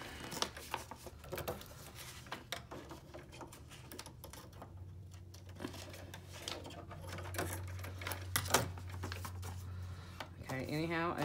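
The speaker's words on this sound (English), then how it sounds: "Let me just fix my sewing machine real quick." Close by, a sewing machine stitches a zigzag in short uneven bursts of rapid mechanical clatter, with starts and stops and a faint hum between them.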